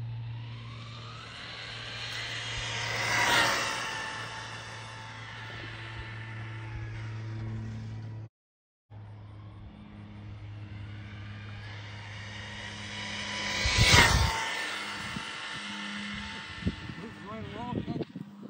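A Haiboxing 2997A RC car on a 3S LiPo makes two high-speed runs down a street, each a rising whine that swells as it passes close and fades away, with a steady low hum underneath and brief talk.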